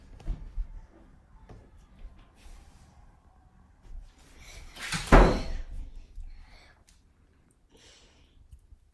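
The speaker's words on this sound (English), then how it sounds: "I'll close the door for a second." Indoors, a door is pushed shut with one firm thump and a brief rattle midway, surrounded by quiet room noise and a few soft knocks.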